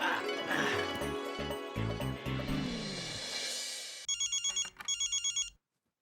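A telephone rings in a Hindi sitcom household: the first part is masked by a loud music sting, then a clear electronic ringtone plays as two short bursts of repeated beeping pulses before it stops.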